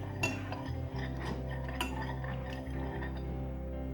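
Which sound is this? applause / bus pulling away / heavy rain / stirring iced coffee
stirring iced coffee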